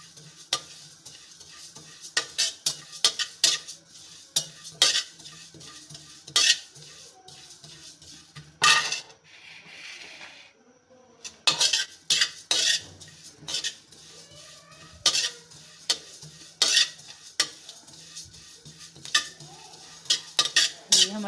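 Fennel seeds roasting in a pan, stirred with a utensil in repeated sharp scraping and clinking strokes over a faint dry sizzle, with a short quiet pause midway.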